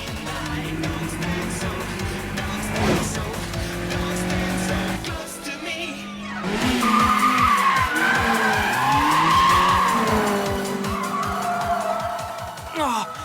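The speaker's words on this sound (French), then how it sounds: "La 86 a fait un dérapage à 4 roues sans même franchir la ligne jaune" A Toyota 86 four-wheel drifts through a mountain-road corner in an anime race, with long tire screeches and skidding over engine noise, a second car nearby, and excited voices talking over parts of it.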